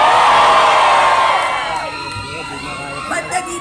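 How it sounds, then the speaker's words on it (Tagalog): A large crowd cheers and shouts loudly at a political speech at Marikina Freedom Park, Philippines, with whoops and children's yells rising together, then tapering into scattered calls. "Hiyaw muna mga masasaya!"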